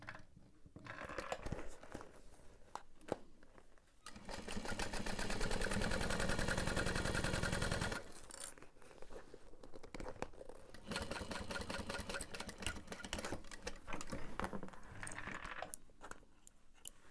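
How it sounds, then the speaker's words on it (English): A sewing machine stitches a fabric bag in two loud, fast, steady runs of several seconds each, with short quiet pauses between them, close by and without talk. "And then we'll sew along the bottom edge"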